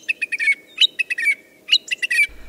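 A thrush sings in clear, bright phrases of rapid repeated chirps and whistles, each burst followed by a short pause, close and loud against a quiet background.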